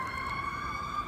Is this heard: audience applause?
no